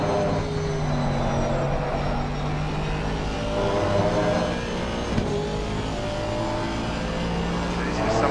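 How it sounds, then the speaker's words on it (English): An Aston Martin race car engine drones loudly in a racing video game at Laguna Seca, a sustained rough roar with shifting pitch as it revs, along with other engine noise. "There's just something so beautiful about this Aston Martin sound."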